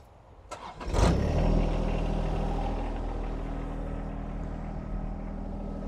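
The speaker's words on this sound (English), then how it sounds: "going ahead and starting up the tractor" A John Deere 1025R compact tractor engine cranks and catches, then settles into a steady, fairly loud idle close by, with no voices.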